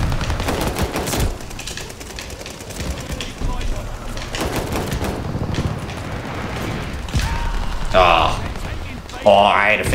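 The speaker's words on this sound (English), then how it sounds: "I'm murdering with this pistol here" Pistol shots ring out in Call of Duty Vanguard in quick, snappy bursts across a busy battlefield mix, with sharp cracks recurring every second or two.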